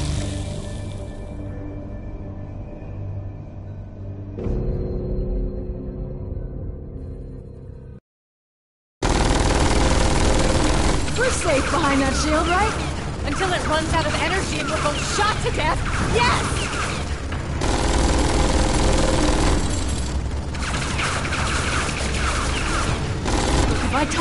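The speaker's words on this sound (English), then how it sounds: "Gunfire" Gunfire in the Tales from the Borderlands video game: a dense, loud burst of shots and crashes following a brief silence, with voices and game sounds before and during.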